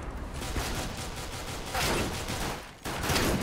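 Gunfire from the video game CS:GO, including a shotgun, rattles in a dense, continuous burst of shots and game noise, loud and sustained, with a brief dip near the end before it resumes.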